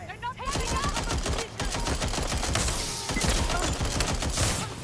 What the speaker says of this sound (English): Do you hear gunfire?